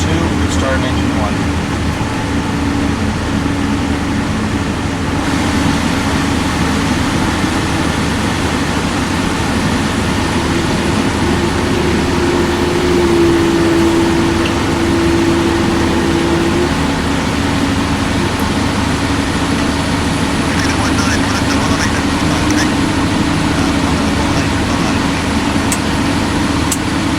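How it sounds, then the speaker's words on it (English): The jet engines of a United Boeing 777-200 spool up, a dense steady roar and whine heard from inside the cockpit, with cockpit chatter and radio calls over it. "Start engine 2, start engine 1."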